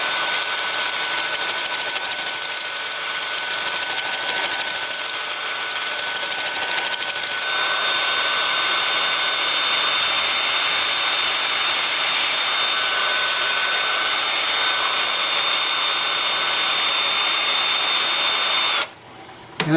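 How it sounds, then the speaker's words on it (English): A wood lathe spins in reverse at 380 rpm while a turning is sanded, giving a steady loud whirring hum with a continuous whine that runs nearly twenty seconds before cutting off abruptly at the end. "And then again with the lathe spinning in reverse at 380."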